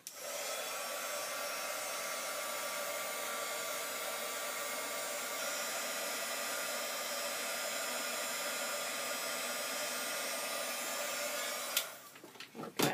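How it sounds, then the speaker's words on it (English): Embossing heat gun blowing hot air over a handmade envelope card, a loud, steady whooshing fan roar held for about twelve seconds before it cuts off with a few faint clicks at the end. "use my embossing gun and excuse the noise for a moment"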